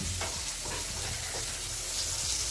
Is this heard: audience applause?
no